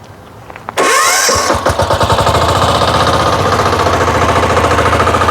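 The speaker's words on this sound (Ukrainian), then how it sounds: "Зараз запускаємо мотоблочок." A Motor Sich walk-behind tractor with a rotary tiller attached starts up with a loud cranking burst, then settles into a steady, loud, rhythmically knocking single-cylinder idle close by.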